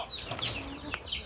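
A chicken clucking outdoors in a short series of soft, irregular clucks at middling distance, set against a noisy background with faint voices.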